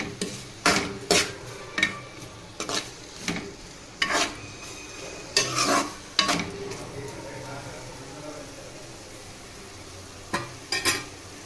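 Gongura (sorrel leaf) fry being stirred in a pan, with repeated close scraping and clattering strokes of a spoon against the pan over a soft sizzle, plus a pause before a few final strokes; a voice speaks in the background.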